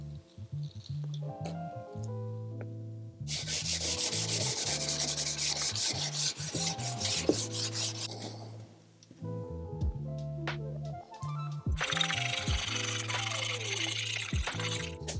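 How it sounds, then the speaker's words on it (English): Sanding an old inlaid wood piece with a shellac top coat, loud steady rubbing and scraping in long passes with brief pauses between bursts, heard alone over a faint background hum. "it will be much easier to sand it"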